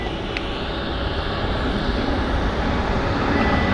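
An American Airlines Airbus A321 arrives at Phoenix Sky Harbor, a deep rumbling jet roar that swells gradually louder toward the end as the plane draws nearer, with no speech.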